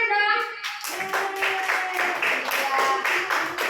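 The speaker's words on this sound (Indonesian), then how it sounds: "Tepuk tangan dong." A classroom of students claps hands together in a quick burst of fast, overlapping claps, with faint voices mixed in.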